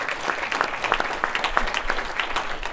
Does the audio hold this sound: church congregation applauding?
yes